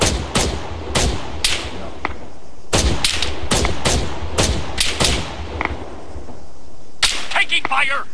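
Arma 3 combat with loud, sharp individual gunshots and short bursts spaced irregularly, heavy thumping reports and echoing tails, then a closer rapid cluster near the end, with some voice chatter underneath.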